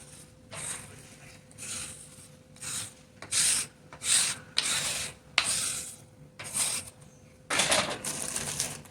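Wet clay scraped off a work surface and back into a bag, a series of short rasping strokes in an irregular rhythm, close and fairly quiet, with no talking.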